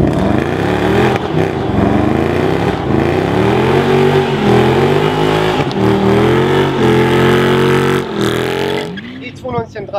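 BMW M3 with its naturally aspirated V8, tuned for more power, revving loudly and steadily up and down close by, with a voice talking over the engine and the noise dropping away near the end.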